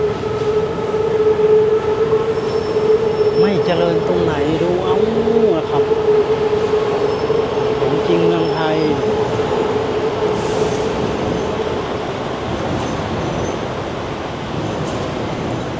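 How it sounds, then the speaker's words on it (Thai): A train rumbles past close by with steady mechanical roar, rhythmic clicking and brief squealing from the wheels, while a person talks over it, on a street near MBK in Bangkok at night. "ดูรถไฟมาแล้วครับ"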